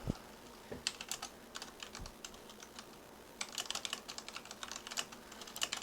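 Quick bursts of clicky keystrokes on a computer keyboard while code is typed, coming in irregular clusters with short pauses between them and a few heavier key thumps, close and fairly quiet, with no talking.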